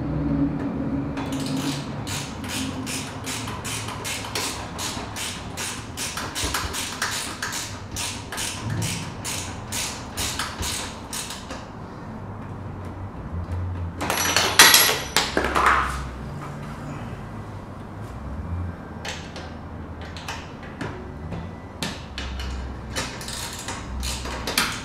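Ratcheting 10 mm wrench snugging bolts on the ladder of a Mt. Shasta extended pioneer series tent, with rapid repeated clicking bursts through the first half, a brief louder metallic clatter midway, then scattered ticks, close and moderately loud.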